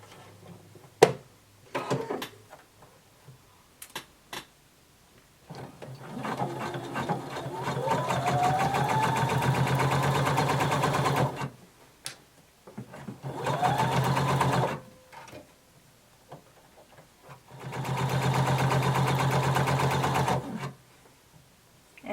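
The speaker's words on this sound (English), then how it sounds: "now we're going to sew 5/8 of an inch seam allowance" A sewing machine stitches a 5/8-inch seam on a garment bodice, running in three long, steady bursts with quiet pauses between them and a few faint clicks at the start.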